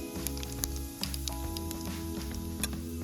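Cumin seeds crackle and sizzle in hot oil for a tempering, a steady fine hiss dotted with sharp little pops, heard close beneath a low constant background hum.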